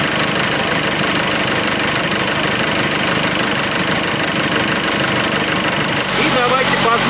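A Nissan Pathfinder diesel engine idles up close with a steady, knocking clatter, a dense rhythmic rattle that stays even throughout, shifting slightly in tone near the end.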